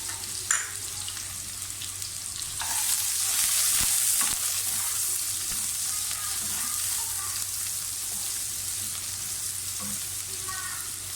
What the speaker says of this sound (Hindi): प्याज अच्छी तरह से फ्राई कर रहे हैं।